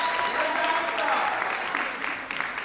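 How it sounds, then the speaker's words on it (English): Applause from the audience at a school piano recital, a dense, moderately distant patter of clapping that continues steadily and thins slightly toward the end. "let's give our eighth graders another round of applause."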